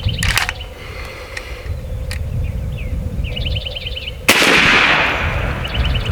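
Shots from an AEA Challenger Pro regulated PCP air rifle: a sharp crack near the start, another faint pop around two seconds, then a loud broadband blast at about four seconds, over steady outdoor background with birds chirping.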